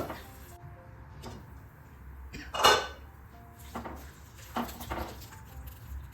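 Lid set onto a cooking pot of vanpayar mathanga erisseri, a Kerala pumpkin and cowpea curry with grated coconut: quiet kitchen clatter, then one distinct metallic clink of the lid landing, followed by softer taps.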